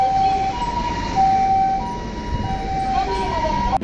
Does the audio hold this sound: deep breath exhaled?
no